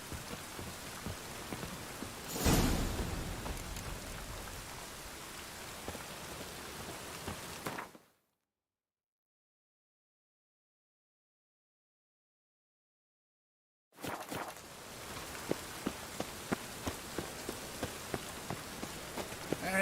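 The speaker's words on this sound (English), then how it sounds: "And it's raining again." Rain in The Witcher 3: Wild Hunt, a steady hiss of rainfall on surfaces with a louder gust early on, cutting to complete silence for several seconds before the downpour resumes with scattered heavier drops.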